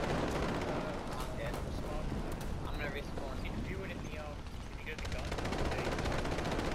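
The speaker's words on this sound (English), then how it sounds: "he's gonna kill me with the machine gun" Machine gun fire and other gunfire in the War Thunder tank combat game, set against a Maus heavy tank: dense, continuous shooting and explosive rumble fill the whole stretch at steady loudness, with speech mixed in.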